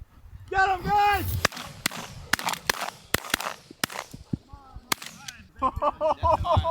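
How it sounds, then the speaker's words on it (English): Repeated shotgun blasts ring out during a duck and goose hunt in Alberta, with more than a dozen sharp, loud cracks coming in irregular bursts between honking geese calling overhead. "Shoot the one on top. Shoot it, shoot it."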